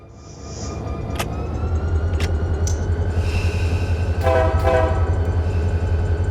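A train passes in Run 8 Train Simulator near Modesto, California, with a loud, steady low rumble of rolling wagons, a few sharp clanks, and a rising mechanical whine as it goes by, heard alone.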